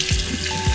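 Vegetables get a quick rinse under a running kitchen tap, a brief, steady rush of water splashing into a sink.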